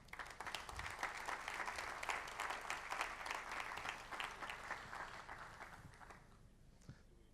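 An audience at a warehouse robotization plenary session applauds steadily as three guests come up on stage, a dense, even wash of clapping that fades out near the end.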